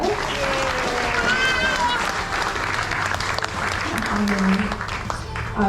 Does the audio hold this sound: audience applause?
yes